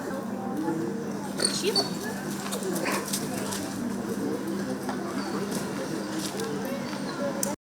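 A police sniffer dog moves about and sniffs while searching for drugs amid a busy room, with people talking nearby and occasional faint whimpers.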